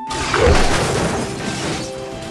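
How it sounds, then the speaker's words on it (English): A go-kart-style racing cart from Wreck-It Ralph smashed apart in a loud crash with shattering debris, a heavy impact early on followed by a scattering, rattling tail. "He smashed her cart."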